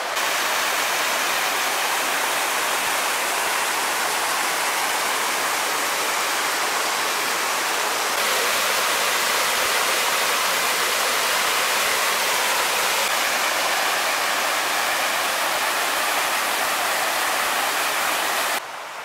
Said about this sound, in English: flows down right here, which is actually Meigs Falls